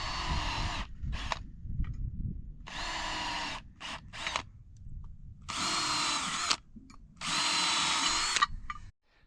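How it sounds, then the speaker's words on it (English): A power drill whirs in several short bursts of varying length, close and loud, with pauses between each hole. "drill a few holes"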